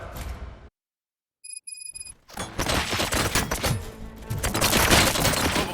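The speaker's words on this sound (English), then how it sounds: "Gunshots? What's going on?" Gunfire in the RoboCop Rogue City video game: a moment of silence broken by faint electronic tones, then a loud burst of rapid shots and impacts echoing in a dense, chaotic fusillade.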